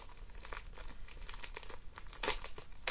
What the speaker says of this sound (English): Just going to rip it on open.